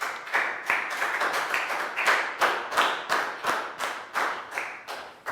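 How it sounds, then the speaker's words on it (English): A classroom of young pupils claps together in a steady run of about a dozen sharp bursts, loud and close, with no talking over it. "High five and a big round of applause for Pak Bung."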